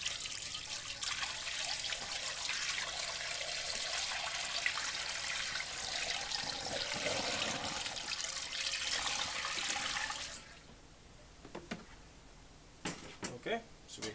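Sanitizer solution running through an Electro Freeze RFC3 ice cream machine: a steady rushing, trickling flow of liquid for about ten seconds that cuts off abruptly, followed by a few faint clicks and drips.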